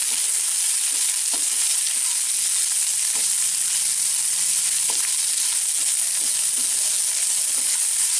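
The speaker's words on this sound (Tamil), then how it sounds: "இப்போ காயோட குசணிக்காயோட கூட போட்டுக்கலாம். இது நல்லா வதங்கணும்." Pumpkin and lentils sauté in a pan, a constant bright hissing sizzle with faint occasional stirring taps underneath, close and even throughout.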